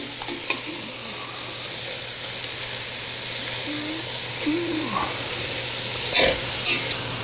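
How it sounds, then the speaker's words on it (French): Veal shank meat sears in a hot pan for osso buco alla Milanese, a steady close sizzle running throughout, with brief scraping and clatter as the pieces are turned near the end. "On a mis la viande, là maintenant, on tourne encore une fois la viande."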